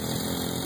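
A motorcycle engine revs loudly and steadily after a missed gear shift, a continuous close-up mechanical roar with no break.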